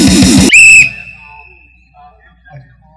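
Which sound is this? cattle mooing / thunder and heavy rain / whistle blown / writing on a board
whistle blown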